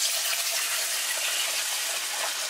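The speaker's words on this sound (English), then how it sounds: "I'm going to grab a mug of water. And I'm going to add about probably a cup of water." Water pours steadily from a mug into a cooking pot while making dumplings, a continuous close splashing gush with no talking.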